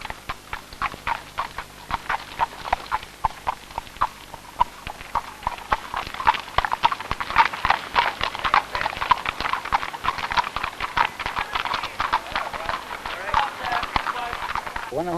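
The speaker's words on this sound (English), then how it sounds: "When a horse is pushed to his ultimate speed" Hooves of a pacer racing on a harness track patter in a fast, steady clip-clop rhythm, close and continuous, building in density midway, while someone talks over them.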